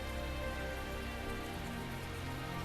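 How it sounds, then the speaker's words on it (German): Steady, even rain hisses continuously in the video game Tales of Zestiria, a dense close wash of falling rain without breaks and with no talk over it. "Ganz allein im Regen."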